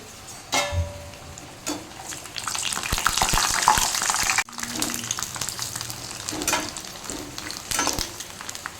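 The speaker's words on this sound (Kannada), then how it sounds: "ಇವಾಗ ಪೂರಿಯನ್ನು ಫ್ರೈ ಮಾಡಬೇಕು." Puris frying in hot oil give a steady bubbling sizzle that swells when dough is dropped in, with a few sharp clinks of utensils and stirring noises close by.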